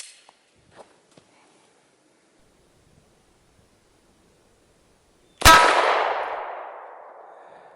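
A single loud, sharp gunshot from a Glock 19X 9mm pistol, with a metallic ring as the round strikes a steel plate, the ring trailing off over a couple of seconds after a quiet lead-in with a few faint clicks.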